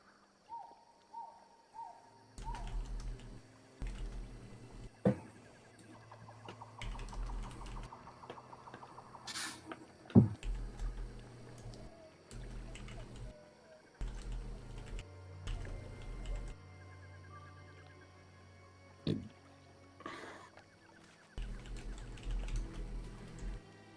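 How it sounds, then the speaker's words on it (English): Keyboard typing in bursts of quick clicks during a tabletop game session, fairly close and moderately loud, with pauses between runs and a few brief louder knocks. "Alex, should I wait for what you're typing?"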